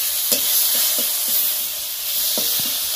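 Onion paste tipped into hot oil with fennel, nigella and cumin seeds for a fish curry crackles in a loud, steady hiss, with a few soft stirring scrapes and no voices.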